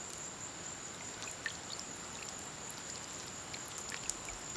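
Water from a small solar-powered fountain with a four-hole top spilling out of a pot, a soft continuous trickle and patter, faint and steady.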